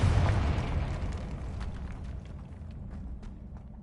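A Confringo fire spell explodes in the Hogwarts Legacy video game, a loud burst with a deep rumbling boom that decays over several seconds into a fading roar.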